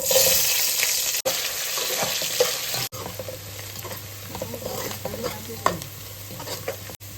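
Onion pieces frying in hot oil and ghee with whole spices, a loud steady sizzle with stirring scrapes throughout, no voices.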